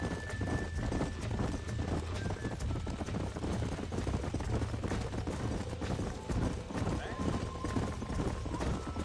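Horse galloping in the Red Dead Redemption video game, steady rapid hoofbeats with a brief whinny, close and continuous while a voice speaks over it.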